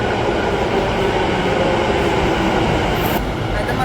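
A metro train at a station platform in Ahmedabad gives off a loud, steady rumble and roar, with a brief high squeal near the end.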